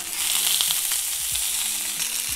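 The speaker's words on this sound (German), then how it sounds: "dann lassen wir jetzt von der zweiten Seite auch nochmal schön anbrutzeln" Salmon fillet searing in a pan on a grill's hot sizzle zone for a pulled salmon burger; a loud, steady crackling sizzle runs throughout, with a few soft scraping and clinking touches.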